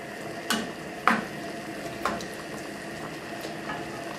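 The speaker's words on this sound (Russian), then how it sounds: "Тихонечко с вами все перемешиваем." A spoon clinks and scrapes a few times against a pan while chicken with black pepper is stirred, soft sizzling running quietly under the irregular taps.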